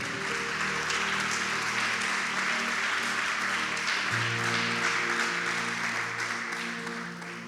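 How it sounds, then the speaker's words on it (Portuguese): Church congregation applauding during a sermon, a broad wash of clapping heard over sustained musical tones from an instrument, fairly steady and continuous. "Pode aplaudir então a Jesus, que Ele é bom."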